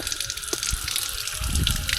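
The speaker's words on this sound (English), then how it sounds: "fresh spring water straight from this mountain" Fresh spring water runs from a mountain source in Bursa, Turkey, a steady close gushing and splashing that holds for about two seconds with no talk over it.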